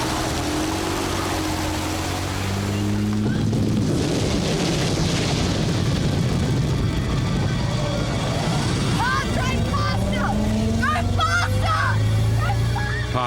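An old car drives away from a raging wildfire, its engine droning under a deep, roaring rumble of flames, while voices shout and talk over the din.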